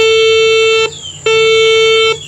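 A metal detector being set up and ground-balanced gives a loud, steady electronic tone that cuts off, pauses briefly and sounds again, two sustained beeps close up with no talk.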